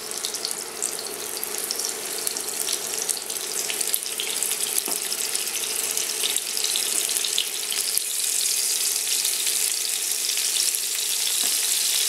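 Patted-dry meat frying in a pan for Greek stifado, a loud, steady, dense sizzle that holds evenly close up with no talking for the whole stretch.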